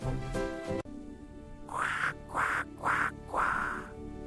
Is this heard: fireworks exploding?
no